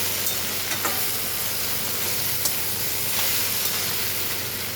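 Okra curry with tomato and cumin powder sautéing in a pan, giving a steady soft sizzle and hiss with a few faint stirring clicks, fairly quiet and close with no talking.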